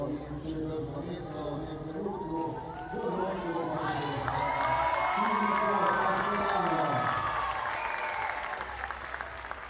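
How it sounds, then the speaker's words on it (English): Loud, dense applause and cheering fill an indoor gymnastics arena at the 2025 Koper Artistic Gymnastics World Challenge Cup finals, swelling through the middle and holding steady throughout, while a commentator talks over it. "You hear the crowd cheering"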